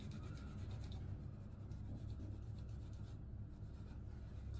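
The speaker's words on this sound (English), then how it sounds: "secret to a lot of these razors to keep them clean, just give them a quick rub" A safety razor gets a quick scrubbing rub to clear off soap scum, making a steady, close rasping friction sound that runs unbroken and evenly for several seconds, with no talking.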